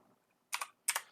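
Two quick bursts of keystrokes on a computer keyboard, a pair of crisp clicks in each burst, set apart by a short pause against near silence.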